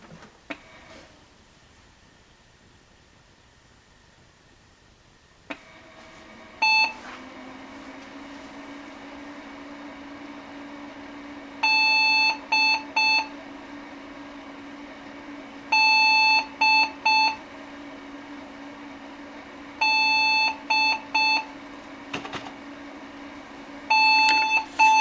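An IBM NetVista tower computer powers on with a steady fan hum, then gives repeated groups of loud, sharp startup error beeps, one long tone followed by short ones, coming in clusters over the hum.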